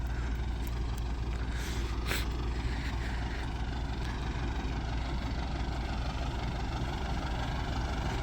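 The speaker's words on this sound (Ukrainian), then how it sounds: "іди заглушить трактор" A steady low MTZ tractor engine idle rumbles on without a break, close by and fairly loud, with no voices over it.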